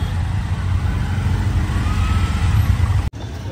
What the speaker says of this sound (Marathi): ट्रॅफिक झाली इथं